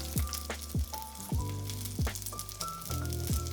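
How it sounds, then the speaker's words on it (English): Steady sizzling of beef cubes searing in a hot pan, with intermittent scraping and clinks as pieces are moved, close and fairly loud. "we're just giving them a quick hot sear on all sides to wake them up"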